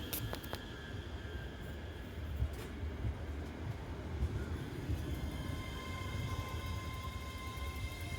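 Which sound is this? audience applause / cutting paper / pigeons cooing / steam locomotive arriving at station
steam locomotive arriving at station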